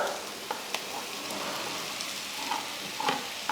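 Onions and tomato stir-fry in a pan for vazhakkai podimas, a soft, even hiss of frying with a handful of light utensil taps and scrapes scattered through it, fairly quiet and without talk.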